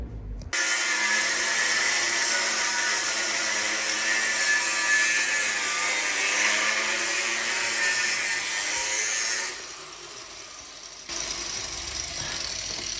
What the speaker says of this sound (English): you might be wondering why I'm taking an angle grinder to the axle